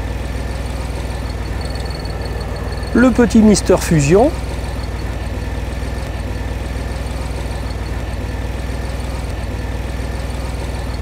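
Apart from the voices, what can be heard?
DeLorean car engine idling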